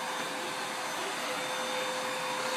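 A household vacuum cleaner runs steadily indoors, giving a constant, even whirring drone with a thin high whine. It stays at the same loudness throughout, with no talking.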